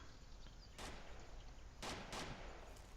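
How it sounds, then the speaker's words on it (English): Gunfire in the survival game DayZ, set in Podagorsk: a few sharp, booming reports ring out close by, a single shot early and a pair of quick blasts later, over a low steady background. "a gunshot just went off really close to me"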